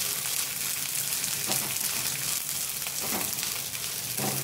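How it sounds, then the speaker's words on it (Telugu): Five or six green chillies fry in half a tablespoon of oil while being stirred, a continuous close hiss with occasional soft stirring knocks and no voices. "ఆయిల్ వేసుకొని ఇలా తిప్పుకుంటూ ఫ్రై చేసుకోవాలి"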